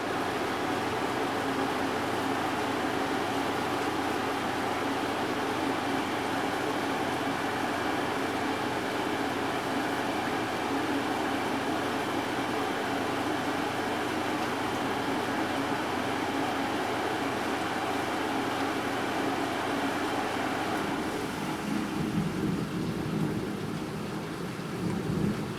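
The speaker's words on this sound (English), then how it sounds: "I genuinely can hear just the rain over the fan of my air conditioner." Steady heavy rain from a severe thunderstorm outside, heard continuously over the constant hum of an air conditioner fan, with a low rumble running underneath and a change in texture near the end.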